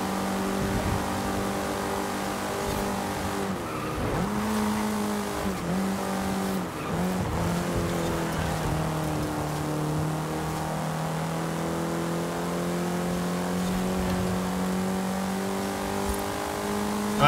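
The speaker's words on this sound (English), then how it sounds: "the acceleration on this one is not great, not instant acceleration that I'm used to" A race car in Forza Horizon 5 holds a steady, droning engine note, with tire squeal and skidding around the middle and gear changes as it accelerates slowly throughout.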